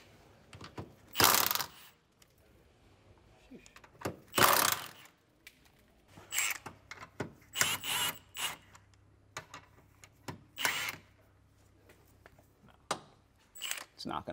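Bolts being removed from the suspension of a 2015-2021 Mercedes-Benz W205 C-Class during control arm replacement, with sharp metallic ratcheting and tool clatter in irregular close bursts while someone talks between them.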